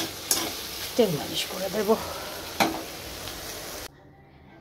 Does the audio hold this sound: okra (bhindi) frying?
yes